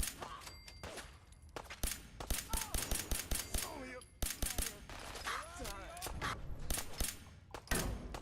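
Automatic gunfire in Fallout 4, including minigun bursts, rattles in rapid, loud volleys broken by short pauses, with someone talking over and between the shots.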